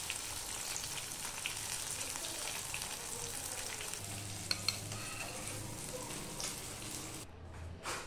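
Bombay duck (bombil) fish fries in hot oil with a steady, close, fine crackling sizzle, briefly interrupted by a couple of light clinks near the end.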